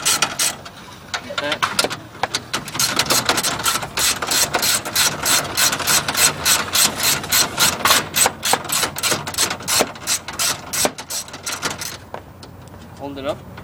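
Ratchet wrench with a 10 mm socket working on the hood latch of a Honda Civic EK, a rapid run of loud, close clicking ratchet strokes in bursts, with someone talking briefly.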